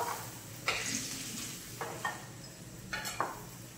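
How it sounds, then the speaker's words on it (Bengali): Potato pieces frying in hot oil in a pan already used for frying a fish head, a steady sizzle broken by a few short scraping stirs, close and alone with no talk. "এবার ওই তেলের উপরেই আমি দিয়ে দেবো"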